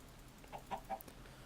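Three short clucks from a chicken in the Minecraft mod Better Than Wolves, evenly spaced and fairly soft over a quiet game background.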